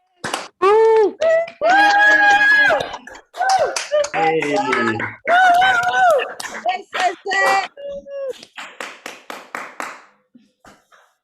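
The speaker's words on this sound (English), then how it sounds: "Unmute yourselves and let's hear that applause." Applause from unmuted participants on a video call: voices call out and talk over one another, then a run of scattered, uneven hand claps comes through on its own near the end.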